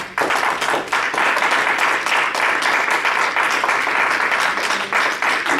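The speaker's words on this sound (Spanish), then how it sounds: "¿Cuánto le dan un aplauso al Señor?" A large church congregation claps loudly and steadily during a sermon, a dense, sustained round of applause with no pause.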